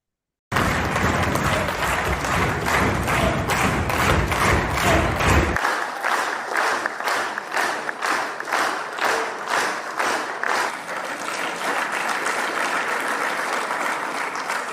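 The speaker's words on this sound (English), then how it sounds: "getting one hell of a round of applause before he stood up to speak" Loud, sustained applause from a large audience, dense clapping that runs steadily for many seconds with rhythmic pulses, with no speech over it.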